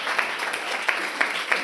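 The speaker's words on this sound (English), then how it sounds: "a big applause to our 4 ladies, Esther, Kelly, Miriam, and Sol." Audience applause for four women panelists at a conference session on agroecology and restoration, a steady moderate clatter of clapping with a few sharper claps standing out, no talk over it.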